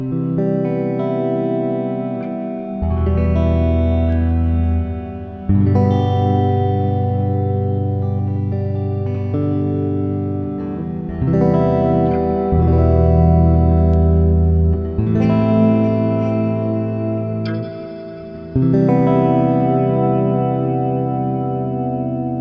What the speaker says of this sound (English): Really beautiful reverb.